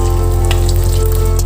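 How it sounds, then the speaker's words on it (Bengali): Pabda fish frying in a pan of oil, a loud, close, continuous sizzle over a low steady hum, with no voices during the short stretch. "দেখো বন্ধুরা, পাবদা মাছ ভাজা হচ্ছে।"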